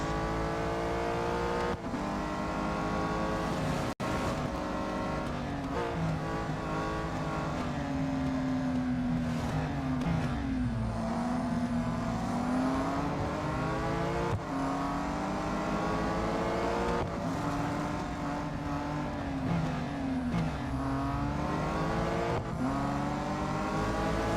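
A race car engine in Real Racing 3 revs continuously, its pitch repeatedly sweeping up and dropping at gear shifts, a loud sustained whine with occasional brief clicks and no talking.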